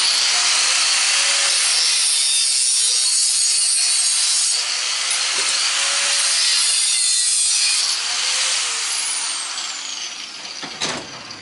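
A grinder or cutting tool chops the end off a scrap brass or copper piece, a loud continuous harsh grinding hiss that wavers in pitch, with no talk.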